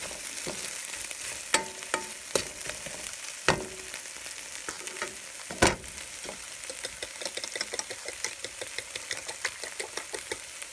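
A mackerel omelette fries in a pan with a steady close sizzle, broken by occasional sharp clinks and scrapes of a utensil against the pan.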